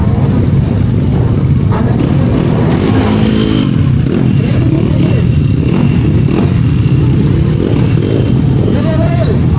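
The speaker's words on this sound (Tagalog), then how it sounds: "Guys, malakas to motor na to." A motorcycle engine roars and revs loudly and continuously, close by, with people talking over the noise.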